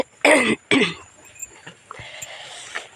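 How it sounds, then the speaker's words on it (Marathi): Two sharp, close coughs from a person with a cold come in quick succession, then a softer throat clearing trails off into quiet background noise in a cotton field. "गले में खिसखिस"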